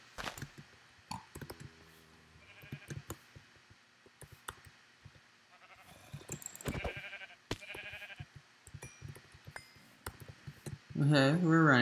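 Minecraft sheep bleats sound amid clicky game noises and scattered hits, with short wavering cries near the middle and a louder burst at the end.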